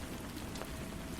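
Steady rain falls without a break, a soft, even hiss of drops close by, quiet and unbroken from start to end.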